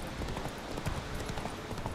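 Roach the horse's hooves clip-clop steadily at a ride in The Witcher 3, a busy patter of hoofbeats under game ambience with no talk.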